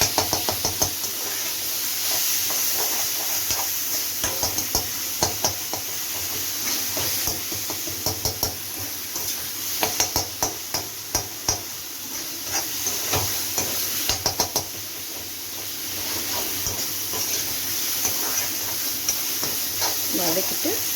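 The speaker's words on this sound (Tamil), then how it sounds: "இஞ்சி பூண்டு விழுது போட்டு பூண்டு விழுது போட்டாச்சு. இப்போ வதக்கிடலாம்." Ginger garlic paste sautés in a pan for a brinjal and drumstick thokku, a low hiss running beneath repeated knocking and scraping of a spoon against the pan in bursts. Nearby talk is heard now and then.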